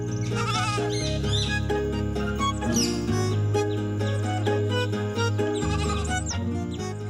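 A young lamb bleats in a steady run of calls over a dense, constant background of music.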